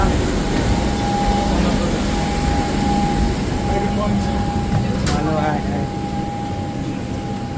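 A steady mechanical hum and rumble inside a moving train, with a constant whine and faint clattering throughout.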